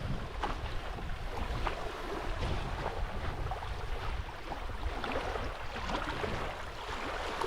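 Wind blows steadily outdoors during a dove hunt, a constant rushing roar buffeting the microphone with no let-up and no voices.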